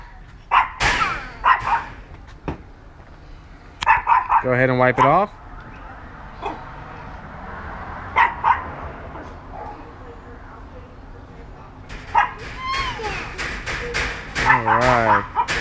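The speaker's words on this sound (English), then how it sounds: "Sorry for my dogs barking" Several dogs bark in short, sharp bursts at intervals, some fairly close and loud, while someone talks over them during a car hood polishing session.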